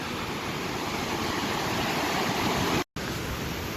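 Willow River Falls near Somerset, Wisconsin pours in a constant, loud broadband rush of falling water, interrupted by a brief dropout near the end.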